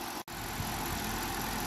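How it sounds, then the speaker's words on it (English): A BMW N62 V8 runs at idle after a spark plug replacement, a steady, even, broadband hum interrupted by one very brief dropout, with no talking. "So luckily the engine is running fine with no problems."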